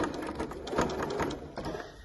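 A sewing machine runs a quick burst of stitches around the edge of a large fabric beach bag, a rapid even mechanical patter at close range.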